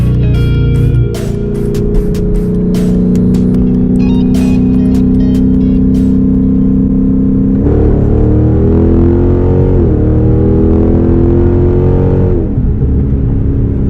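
A Dodge R/T car with a limited-slip rear end accelerating hard in third gear, its engine droning loud and steady with a rising pitch, then shifting and climbing again over about fourteen seconds.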